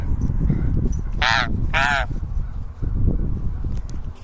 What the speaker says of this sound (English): And I hear a bunch of crows coming this way.